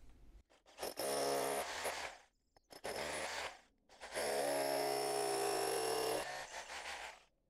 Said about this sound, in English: This is the standard masonry bit,